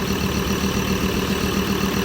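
A Ford Everest 3.2 with a newly replaced engine left running at idle: a steady, even diesel rumble, close and continuous with no revving.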